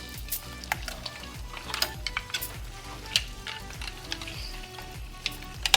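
Paella ingredients sauté in a pan with a steady, close sizzle, while a spoon scrapes and stirs through them in scattered clinks and taps; no talking.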